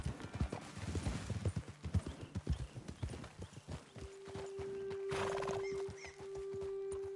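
Horse hooves clip-clop at a steady trot on a dirt trail in Red Dead Redemption 2, fairly close, then slow and fade as a sustained tone and ambient wind rise.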